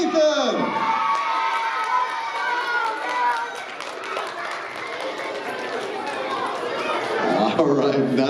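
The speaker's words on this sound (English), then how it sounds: "give all of our contestants another great big round of applause" A children's audience at a school math competition cheers, shouts and claps for the contestants in a loud, sustained crowd roar, with an announcer's voice cutting through at the start and end.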